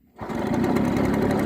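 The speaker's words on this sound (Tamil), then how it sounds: "பைக் ஆன் பண்ணுறேன்." A motorcycle engine catches abruptly after a moment of quiet and settles into a loud, steady, rapid idle close by.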